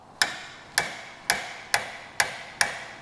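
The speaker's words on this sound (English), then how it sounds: "you could take a soft hammer and give it a little shock" Six evenly spaced sharp taps of a soft hammer striking a 24mm wrench on a Vespa GTS oil drain bolt, each a crisp metallic knock with a short ringing decay.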